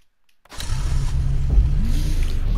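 A car engine cranks and catches, then settles into a steady, close rumbling idle that rises briefly as it is revved, with no talking over it.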